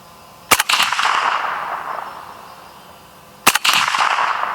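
Two sharp, loud shots from a suppressed AK rifle, about three seconds apart, each trailing off in a long ringing echo outdoors, with no voices.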